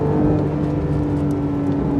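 A Porsche 992 Sport Classic (ST) engine revs steadily and strongly in third gear after a downshift, a continuous close mechanical drone with no voices over it.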